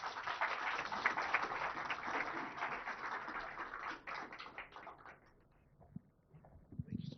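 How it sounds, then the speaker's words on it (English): Steady applause from a crowd at a government launch event, dense clapping that holds for several seconds before thinning out and fading near the end. "a big round of applause"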